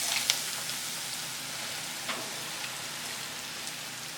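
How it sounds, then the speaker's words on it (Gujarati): Red chilies, asafoetida and curry leaves tempering in hot oil for a ridge gourd and patra curry give a faint, steady sizzling hiss with a few tiny crackles. "મરચાં, થોડી હિંગ અને થોડાક લીમડાના પાન એડ કરી આપણે શાકને વઘારી લઈશું।"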